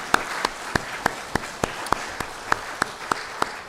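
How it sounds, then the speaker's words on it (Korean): A congregation at a Sunday church service claps in welcome, a dozen crisp, evenly spaced claps ringing out in a steady rhythm against a quiet room. "서로 바라보면서 박수로 환영합니다"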